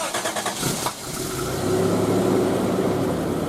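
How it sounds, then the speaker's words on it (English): A 1991 Toyota pickup's engine turns over and catches, then settles into a loud, steady rumbling idle with a slight rev through a new exhaust and muffler, heard close up. "We'll listen to the sound of the engine."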